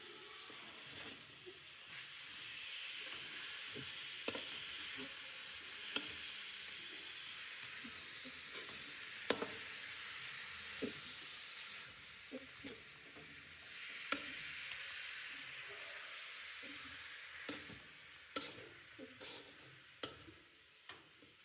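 Onion paste with fresh turmeric sizzles steadily as it fries in a pan, with a spoon scraping and clicking against the metal at irregular intervals while it is stirred.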